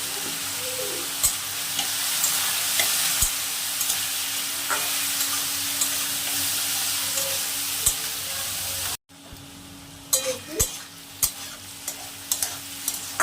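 Mixed winter vegetables frying with turmeric in a pan, a steady loud hiss of hot oil that drops briefly, then resumes with sharper clicks and scrapes of stirring, close up and no voices.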